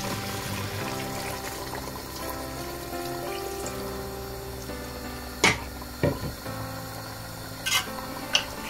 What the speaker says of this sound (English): So I'm gonna add this water.